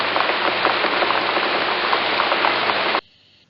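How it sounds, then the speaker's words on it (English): Steady rain falling, a dense continuous hiss with scattered drop patter, loud and close, running for about three seconds before cutting off abruptly into near silence. "It is the rain."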